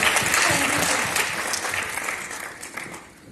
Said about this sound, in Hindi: इस बच्चे के लिए जोरदार तालियां हो जाए